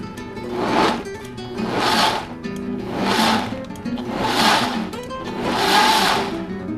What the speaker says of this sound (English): the great thing about this blender, again, is it's so powerful